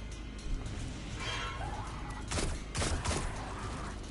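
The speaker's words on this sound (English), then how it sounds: "Oh well, pistol doing all right." Pistol shots in the video game Destiny 2 crack out in a few scattered bursts over a low, rumbling combat soundscape, moderately loud and irregular.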